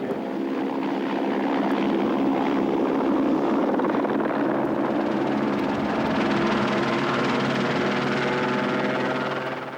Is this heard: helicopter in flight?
yes